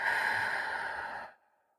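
A single long exhale blown out steadily through the mouth in a quiet setting, breathy and close, fading out abruptly at the end.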